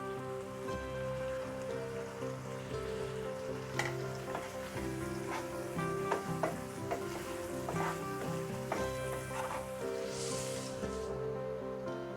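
Dry chili powder and green chilies sizzle in hot oil in a pan for prawn biryani, giving a soft, continuous frying hiss with scattered crackles and stirring clicks. It is close but fairly quiet, with no talking.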